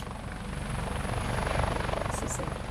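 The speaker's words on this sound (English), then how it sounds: "next we have the air rescue helicopter, complete with rotor blades on the top" A steady, rapid whirring flutter of a toy air rescue helicopter's rotor sound runs throughout, fairly constant and close, with a faint high whine above it.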